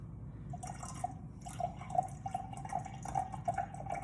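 Rice vinegar poured into a dish while cooking gives a soft, steady liquid trickle with faint drips over low background rumble, fairly quiet and close.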